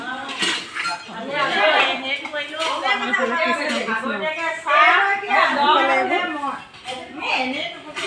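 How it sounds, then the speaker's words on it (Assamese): A woman washes dishes at a namghar prayer hall, with pots, pans and cutlery clinking and clattering irregularly beneath nearly constant nearby talking voices. "এইগৰাকীয়ে বাচন ধুইছে।"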